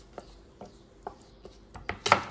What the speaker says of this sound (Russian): яблоки разделила на достаточно большие кубики